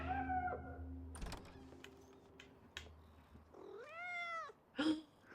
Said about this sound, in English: I hear the cat meowing.